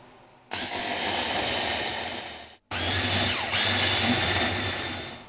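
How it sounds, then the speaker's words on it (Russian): Kitchen blender blending frozen berries, apples and honey into a dessert, a loud steady whirring motor in two long runs separated by a short pause. "Сейчас все это в блендере смешаю, перемешаю"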